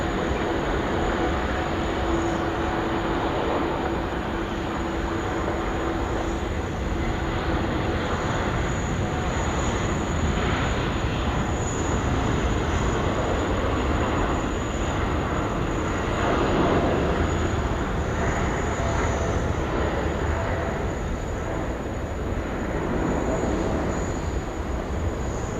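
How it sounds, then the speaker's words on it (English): A Boeing 787 bound for Los Angeles rolls for takeoff from runway 16 right at Sydney Airport, a loud, steady broadband jet roar sustained throughout with no voices. "Boeing 787 I just 900 lined up now, runway 16 right, off to Los Angeles"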